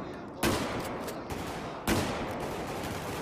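Bursts of video game gunfire in Battlefield 4 during a naval battle map, two sharp loud volleys with sustained rattling fire between them.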